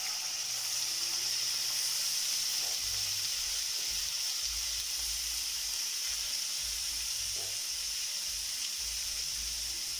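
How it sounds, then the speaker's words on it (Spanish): Beef frying in a pan, a constant close sizzle and hiss of steam running evenly throughout, with faint low background hum and no speech. "vamos a freírla para luego proceder a ponerle los demás ingredientes y el huevo"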